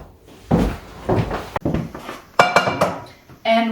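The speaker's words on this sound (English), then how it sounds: "get your saucepan" A metal saucepan is pulled from a kitchen cupboard and handled: a close series of knocks, bumps and clatters, ending in a ringing metallic clink, with no voices.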